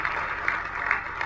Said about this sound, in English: So I think we should all give yourselves an applause for what we've done in 4 years.